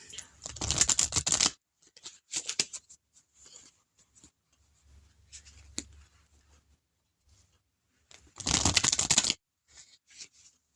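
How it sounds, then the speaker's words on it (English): Tarot cards are shuffled in two quick, crisp riffling bursts, one at the start and one near the end. Soft handling noises and quiet murmurs fill the gap between them. "I'm about to shuffle these bad boys again."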